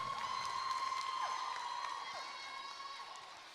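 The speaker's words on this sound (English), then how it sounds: "Give them another round of applause, ladies and gentlemen." Audience applause and crowd noise at the NPATT Maypole Festival, a steady wash of clapping and cheering mixed with tonal background sound, fairly even and slowly fading toward the end.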